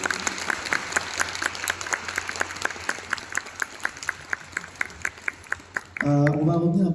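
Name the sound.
audience applause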